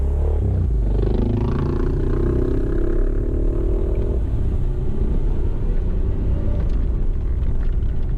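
Adventure motorcycles, including an F650 GS, Tiger 800 and DR 650, ride with lowered tyre pressure over a corrugated dirt road in northern Australia, a loud, continuous engine rumble and roar close by, steady throughout.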